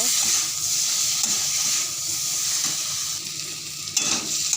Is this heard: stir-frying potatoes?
yes